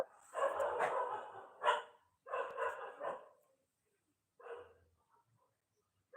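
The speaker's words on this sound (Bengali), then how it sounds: "ইস কুকুরগুলো কি ঘেউ ঘেউ করছে দেখ" Dogs bark in several sharp bursts, a run of close barks followed by pauses and a last short volley.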